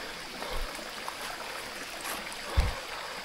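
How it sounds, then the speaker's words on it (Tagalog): A rocky mountain river on a hiking trail near Talumpok West, Batangas City, flows quietly and continuously, with a soft trickle and a couple of faint low thumps near the middle and end. "Ito ilog to mga buddy oh."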